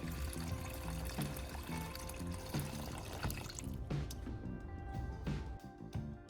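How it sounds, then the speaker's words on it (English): Clean water pours steadily into a plastic container, a continuous close splashing trickle that is the first step in mixing a salt electrolysis solution for sharpening pruning shears. "I'm now pouring clean water into a plastic container."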